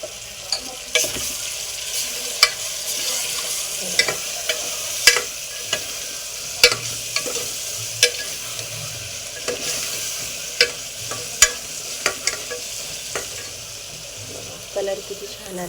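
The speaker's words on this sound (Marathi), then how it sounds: "फ्राय झालेलं आहे आपलं मटण, लालसर भाजून झालेलं आहे" Mutton fries in a pan with a steady sizzle while a spoon stirs it, scraping and clinking the metal in irregular sharp knocks throughout, close by and with no one talking.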